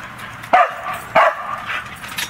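A Shetland Sheepdog lets out a few sharp, high barks at a steady pace outdoors, close by, with nobody talking.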